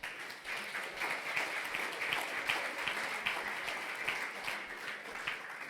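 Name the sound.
audience applause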